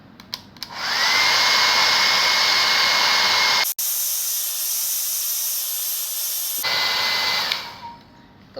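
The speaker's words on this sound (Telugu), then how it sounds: "సో హెయిర్ డ్రైయర్ని తీసుకుని ఆ స్టిక్కర్ ఉన్న ప్లేస్లో ఇలా హీట్ చేసేయండి" Hair dryer blowing hot air onto a sticker to loosen it: a loud, steady close-up whoosh that briefly shifts in tone midway, then cuts off, leaving quiet room noise.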